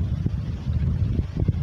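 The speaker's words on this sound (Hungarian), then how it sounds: "hát ilyen szél fújni," Strong wind blowing outdoors beside old walls, a steady low rumbling buffet on the microphone with brief gusty surges.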